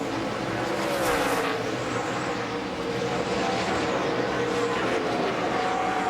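NASCAR stock cars racing at Dover, a loud, continuous engine roar with rising and falling pitch as cars accelerate off the corner, distant crowd-like wash underneath.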